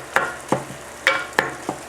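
Two pounds of hot, spicy pork sausage browns in a frying pan, with a steady close sizzle broken by several sharp scrapes and taps of a utensil against the pan.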